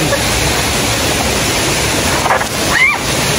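Kinabuan Falls roars as a constant broad rush of falling water, loud and close, with a faint voice briefly audible near the end.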